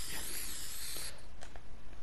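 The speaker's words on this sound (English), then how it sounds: "Okay, I gotta spray my rainbow." A spray can hisses steadily while painting a rainbow in Fortnite, a loud continuous broadband spray that cuts off partway, leaving quieter rattling clicks and hiss.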